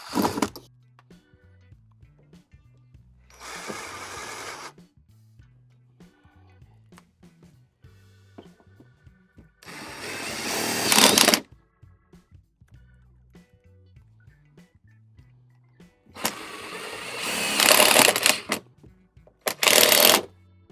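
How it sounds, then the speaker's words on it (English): A power drill drives screws into a swing-out table leg bracket in a camper van, in several separate bursts of whirring with quiet pauses and small handling noises between. "then all you want to do is just chuck your screws in."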